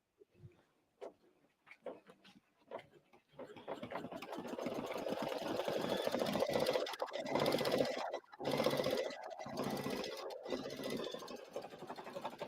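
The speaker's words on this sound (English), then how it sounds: "it definitely stitches better when you hit the threading button before you hit the start button" Kimberbell embroidery sewing machine doing a satin stitch runs in a fast, steady mechanical whir after a few start-up clicks, with brief stops and restarts; light talk in the background.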